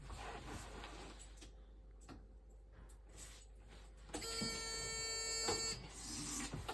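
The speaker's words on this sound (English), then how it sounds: "that was the alarm for the step." A pop-up roof campervan's step alarm gives a steady, high electronic beep partway through, over a faint background hum, close and fairly quiet, with no talking.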